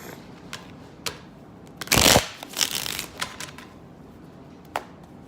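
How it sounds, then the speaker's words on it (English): Tarot cards being shuffled by hand, a few light riffles and taps scattered through a quiet stretch, with one louder, denser burst of card noise near the middle; no talking. "a little more shuffling here"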